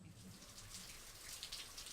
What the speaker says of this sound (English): it's raining outside in Los Angeles, so I want to record the rain